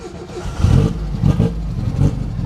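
A customized 1969 Volkswagen Karmann Ghia engine revs up and settles a few times, a deep, throaty idle rising in short surges, close and loud with no voices over it.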